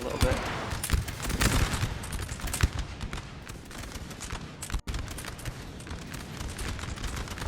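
Massed skirmisher formations trade musket fire in the Napoleonic battle game Total War NTW3, a dense, continuous crackle of distant volleys under rumbling battle noise.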